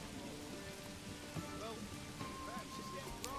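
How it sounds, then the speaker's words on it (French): Rain falling in the medieval city-building game Manor Lords, a soft continuous patter and hiss with scattered drip-like ticks, faint and steady against quiet background tones. "Bon là il pleut"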